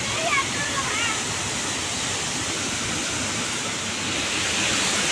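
A waterfall at Ghatagaon in Keonjhar, a loud, steady rushing roar of falling water heard close by, with people talking over it.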